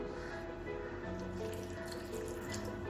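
Water is poured into a microwave-safe bowl of chopped capsicum and tomato, a brief, soft, steady trickle and splash with no voices.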